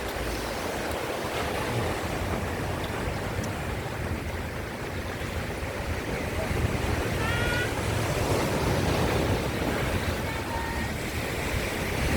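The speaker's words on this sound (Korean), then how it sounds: "파도가 많이 있습니다" Steady ocean surf washing in continuously along the East Sea coast of Korea, mixed with wind rumbling across the microphone, no voices.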